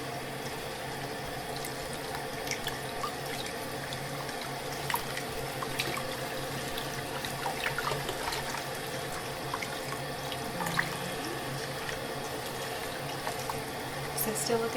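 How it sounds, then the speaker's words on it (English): Tap water runs steadily at a salon sink while a client's hair is wetted, a soft continuous flow with small splashes, close and even throughout, with quiet talk under it. "I'm just going to wet your hair"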